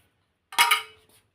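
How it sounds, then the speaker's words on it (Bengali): Fish being washed in a metal pot, one brief clattering clink and splash of metal and water, close and short, then quiet. "তাড়াতাড়ি করে মাছটা ধুয়ে আনি।"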